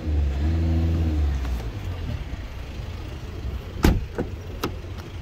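A diesel Volkswagen Golf GTD engine revs with a deep rumble, then drops back to idle, followed by a few sharp clicks and knocks nearby.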